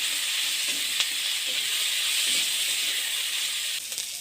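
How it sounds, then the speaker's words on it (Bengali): Thinly sliced capsicum fries lightly in oil with a little salt, giving a steady, even sizzle and hiss, with a few soft stirring taps near the pan, close and continuous with no talk. "হালকা ভাজা হয়ে গেছে ক্যাপসিকামগুলো"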